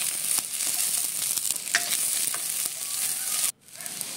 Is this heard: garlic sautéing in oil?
yes